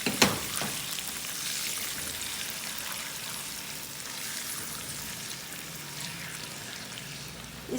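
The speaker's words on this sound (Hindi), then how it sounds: "और इसमें मैं डाल रही हूँ ये सब्ज़ प्याज, और इसमें मैंने अदरक डाली है" Sliced onion and pounded crushed ginger frying in hot oil for a spicy potato dish, a steady close crackling sizzle that holds evenly throughout, with a couple of brief utensil clicks near the start.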